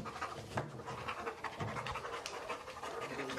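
A Labrador detection dog in a training room pants in quick, rhythmic breaths, close and fairly soft, with no speech over it.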